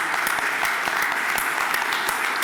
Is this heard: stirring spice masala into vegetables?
no